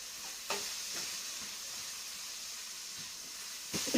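Cassava pieces sizzle gently in hot oil in a pan, a soft steady hiss broken by a few light clinks of stirring, fairly quiet and close.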